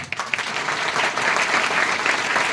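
Enthusiastic audience applause at a Republic Day flag-hoisting program in India, a dense, steady wash of many hands clapping at once, held at a fairly loud, even level throughout with no voices on top.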